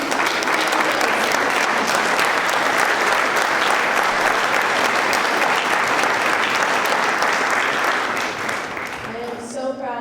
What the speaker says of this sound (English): How about one more just round of applause for all of these amazing educators